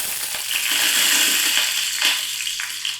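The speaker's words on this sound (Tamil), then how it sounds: "எண்ணெய் கொஞ்சம் சூடானதும் வாசனைக்காக ஒரு 4-5 பூண்டு பற்கள் சேர்த்துக்கலாம்" Garlic cloves frying in hot peanut oil in a kadai, a loud, bright, continuous sizzle with bubbling crackle that eases slightly toward the end.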